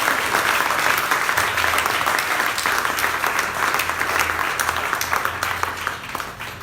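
A church congregation claps and cheers together, dense, loud and sustained, with a few voices mixed into the applause as it eases slightly toward the end.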